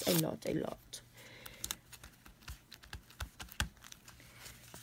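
Craft tape being pulled and pressed onto paper during winter card making, a series of short sharp crackles and taps at close range after a brief burst of voice at the start.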